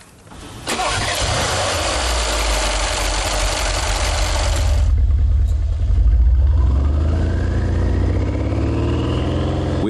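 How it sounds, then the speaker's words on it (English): The 620-horsepower engine of a Brabus B63 starts up loud and close, then settles into a throaty idle before revving, its pitch climbing steadily. "Now it's time for the engine to show what it's capable of."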